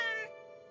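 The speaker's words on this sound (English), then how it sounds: "this is my space kitty, Houston." A cartoon space kitty gives one short, clear, tonal meow that trails off quickly, heard alone and close.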